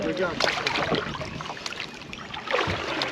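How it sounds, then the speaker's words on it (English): Canoe on open water being back paddled to turn around, with soft splashes and water sloshing mixed with wind as people talk nearby. "Okay, we're going to do the back paddling."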